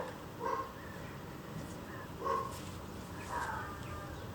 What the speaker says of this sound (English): Every time I speak outside, the neighbours' dogs are barking and it's just a massive distraction.